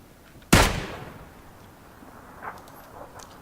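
A sniper rifle fires once in the Battlegrounds video game: a sharp, loud crack whose tail fades away, followed by faint distant sounds.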